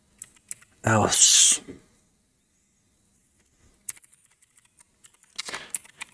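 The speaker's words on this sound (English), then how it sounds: "I like clicky keyboards, but mine is kinda quiet." Typing on a quiet but slightly clicky computer keyboard, scattered bursts of close key clicks after a short spoken word, with pauses between the runs of keystrokes.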